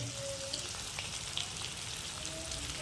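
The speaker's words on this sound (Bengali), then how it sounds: "বয়েল আলুটা দিয়ে দিল তারপরে আগুন থেকে ছাক করে একটা আওয়াজ করলো" Boiled potatoes sizzling in a hot pan while a paneer dish is cooked, a faint, steady crackling fry with small scattered pops throughout, with no speech.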